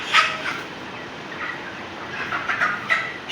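Chickens at a busy wholesale poultry market cluck and squawk in short irregular calls over a steady crowd murmur, fairly close and moderately loud.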